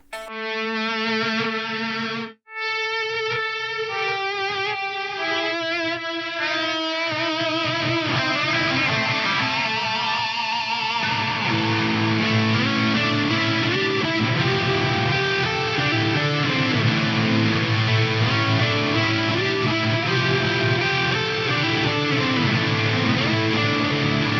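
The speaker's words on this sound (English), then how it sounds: "Let's go to the reverse reverb, just reverse reverb number 1, with a lead again." A Kurzweil Rumour synthesizer plays a lead line through a reverse reverb effect, with rising swells of reversed reverb building into sustained, layered notes that grow denser and louder over the passage.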